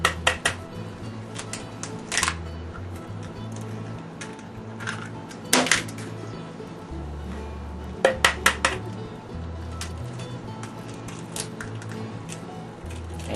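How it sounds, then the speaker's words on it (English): Two large eggs are cracked into a bowl of green tea cookie dough, giving sharp taps and clinks against the bowl in scattered little clusters over a low steady hum, close by and without speech. "Now we're going to add 2 large eggs."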